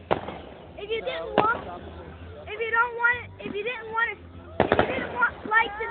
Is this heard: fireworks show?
yes